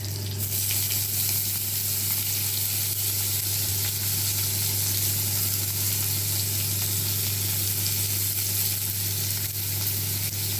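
Cabbage hits hot oil and tempering spices in a frying pan, giving a loud, continuous sizzle and hiss that holds steady throughout with an underlying low hum and no talking.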